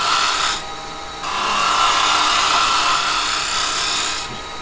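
Carbide chisel from a Type 3 set shearing wood on a spinning lathe, a loud continuous hissing cut that pauses briefly and resumes in steady passes, close and alone without talk.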